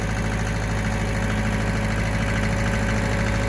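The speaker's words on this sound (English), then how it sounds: "The hydraulics run nice and smooth" A Mitsubishi D2650FD tractor diesel engine runs at a steady mid-range speed, a constant close rumble with a firm, even hum and no talking.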